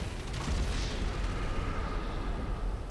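Rumbling rocket blasts in GTA Online, a dense continuous low roar of explosions with no clear gaps, fairly loud throughout and no talking.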